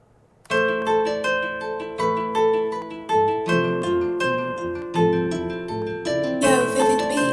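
Trap beat built on a riser, with steady harmonic synth chords and punchy rhythmic pulses that swell and repeat, loud and upfront, brightening into a noisy riser toward the end, with no voices.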